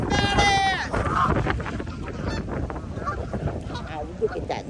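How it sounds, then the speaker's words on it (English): A large goose honks in a rapid series of loud, nasal calls close by, followed by more scattered honks and other waterfowl calls. "The big fat goose in the way."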